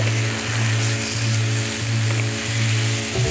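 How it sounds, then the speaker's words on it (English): Onions and jackfruit for a BBQ jackfruit pizza sizzle steadily in a hot pan, a continuous close frying hiss with a faint rhythmic pulse from the stove underneath. "Fold the jackfruit through the onions and saute for a further 1 to 2 minutes"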